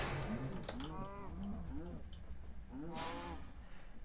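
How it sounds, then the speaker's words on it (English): Cows in Minecraft giving a series of short, repeated moos, close and clear over a low steady background hum. "Evil cows, go on, get killed."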